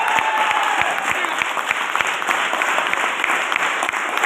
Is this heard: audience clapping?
yes